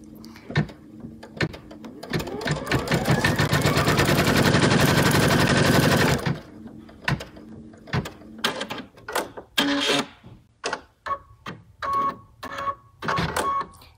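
An embroidery machine sews a stitch line on fabric in a hoop, a loud dense whirring burst of rapid needle strokes lasting several seconds, then quieter scattered clicks and taps afterward.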